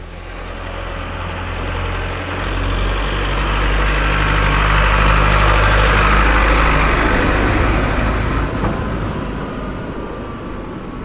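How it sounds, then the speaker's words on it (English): An old 1970s Ford tractor engine idles with a steady low rumble and faint mechanical clatter, swelling slightly in the middle, with no talking. "here's a farmer here in his Ford tractor"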